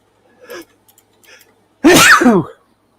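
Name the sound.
sneeze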